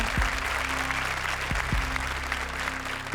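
Studio audience applause on a Comedy Circus elimination stage show, a steady wash of clapping over low sustained background music with a few sharp thumps, moderately loud and continuous throughout.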